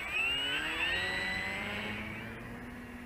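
An FMS 3000mm RC glider's electric motor whines steadily at 60% throttle as the plane climbs out, a high buzzing tone with rising and falling harmonics that holds at an even level and eases slightly toward the end.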